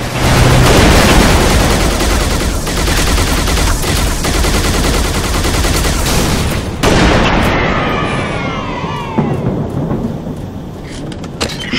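Heavy rapid gunfire from a Covenant shade turret in the video game Halo Reach: a loud continuous barrage for several seconds, then it cuts off, leaving scattered shots and whizzing projectiles.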